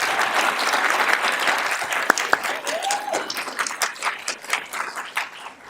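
A commencement audience for a Master's in Public Education Management class breaks into steady applause that fills the whole stretch, with a brief whistle and a couple of sharp claps standing out from the crowd.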